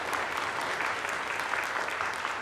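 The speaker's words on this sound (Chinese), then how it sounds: "我们一起来拍手来欢迎他们" A church congregation at a Sunday worship service applauds steadily to welcome new deacons, a dense, even wash of many hands clapping throughout.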